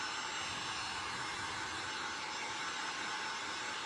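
A hair dryer blows steadily on an item bought at an estate sale, giving a continuous, even whooshing roar that holds at a constant level throughout, with no one talking.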